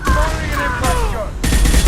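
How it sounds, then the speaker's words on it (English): Impact gun firing in Mass Effect 2, close loud percussive shots landing in quick succession over the game's combat music, with a heavier burst near the end. "Firing an impact gun!"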